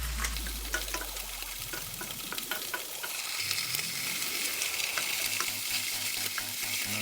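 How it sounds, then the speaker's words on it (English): Tofu fries and browns in a pan for a miso tofu dish, giving a steady close sizzle with crackling spits and scraping stirs, and no one speaking. "The tofu is browning nicely."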